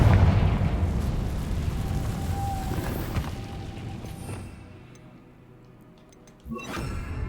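Confringo fire spell blasting in the Hogwarts Legacy game, a loud rumbling burst at the start that fades over several seconds, then a sharp second crack near the end.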